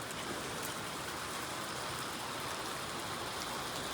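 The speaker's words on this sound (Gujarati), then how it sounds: "બારે વરસાદ ચાલુ થયો" Unseasonal winter rain falls steadily in a village, heard as a soft, even wash of hiss with no talk and no breaks.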